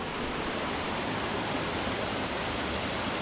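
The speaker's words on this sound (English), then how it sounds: "So we've made it to a waterfall here." Steady, full rushing roar of a waterfall and stream in a lush wooded valley along Scotland's NC500 route, close and unbroken throughout with no talk.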